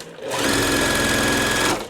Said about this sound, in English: We're just going to sew this